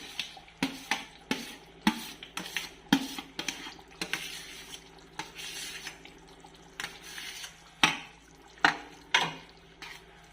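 Boiled vegetables being stirred into simmering pav bhaji gravy in a pan, with repeated close clatters and scrapes of a spoon against the metal pan at an uneven rhythm and no talk.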